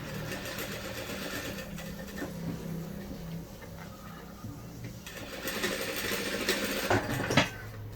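A sewing machine runs steadily, stitching a cushion along a marked line, its motor hum and needle rhythm continuous and close for the whole stretch, swelling slightly louder near the end.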